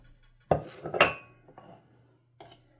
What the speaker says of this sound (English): Let me just grab a knife here